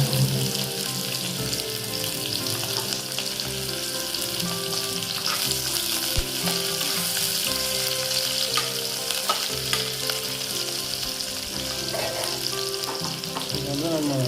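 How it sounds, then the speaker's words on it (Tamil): Sliced onions and almonds deep frying in hot oil for a creamy chicken stew, a loud steady sizzle with occasional stirring scrapes throughout. "இந்த ஆனியன் வந்து நல்லா டீப் ஃப்ரை ஆகணும்"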